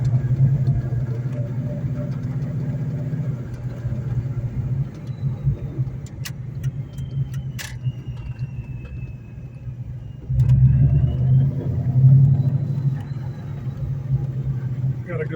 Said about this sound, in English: I'll let you hear the exhaust a little bit.